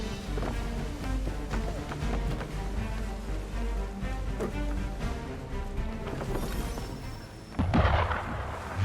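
Heavy cannon fire from gunboats in Assassin's Creed 3 on the water, with repeated loud booming blasts over a dense din of battle, ending in a bigger close burst.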